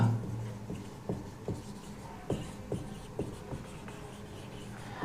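Formula being written on a board during a classical mechanics lecture: a steady run of soft, distinct tapping and scraping strokes, close and fairly quiet, with no talking.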